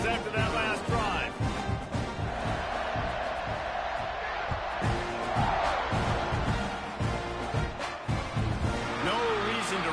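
A college football stadium crowd at a game against Texas A&M roars and cheers after a scoring drive, producing a dense, sustained wash of noise with a commentator talking over it.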